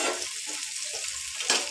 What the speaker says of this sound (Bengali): এই দেখুন আমি একটু ভেজে নিচ্ছি।